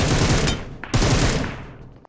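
Automatic gunfire in the mobile battle royale game PUBG Mobile: two loud, close rapid-fire bursts, the second following a brief gap and tailing off into echo.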